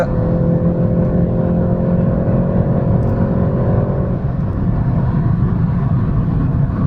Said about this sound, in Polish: silnik bardzo ochoczo wkręca się na obroty